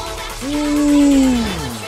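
A car in the racing game Forza Horizon 3 accelerates through a corner. Its engine tone swells upward and then slides back down over about a second, fairly loud and alone.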